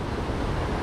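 Floodwater rushes down the swollen river at Chilgok near the Hoguk bridge. It makes a steady, broadband roar under a second long, with no voices.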